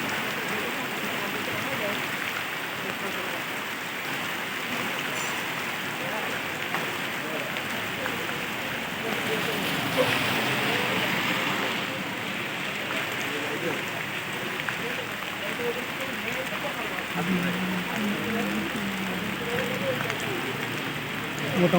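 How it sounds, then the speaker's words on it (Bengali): Steady rain falls on surfaces outdoors with a constant even patter and hiss, slightly heavier at moments, and faint background voices. "মোটামুটি ভালোই বৃষ্টি হচ্ছে আলহামদুলিল্লাহ"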